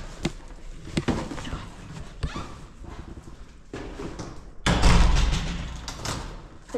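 A door being shut in a home in Madrid, with a sharp loud slam after a stretch of close rustling and knocking household noise, followed by a ringing echo.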